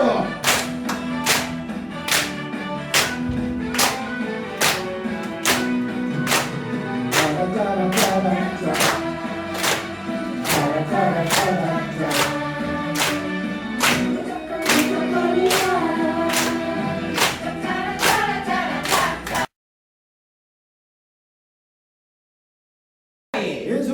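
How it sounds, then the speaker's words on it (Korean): A group in a dementia prevention class claps in a steady rhythm, with sharp, evenly spaced claps roughly every two-thirds of a second over an upbeat song and singing. The clapping stops abruptly, followed by a few seconds of silence. "박수!"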